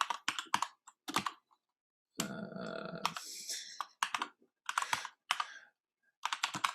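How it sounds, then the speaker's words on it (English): Computer keyboard typing comes in short, quick bursts of clicking keys, close and fairly quiet, separated by pauses, with a longer rough stretch of sound in the middle. "Does everyone understand what I'm typing?"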